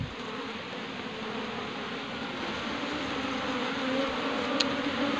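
Honey bees swarm around an opened hive box after the honey combs are taken, making a continuous, dense buzzing drone close by that holds at an even level throughout.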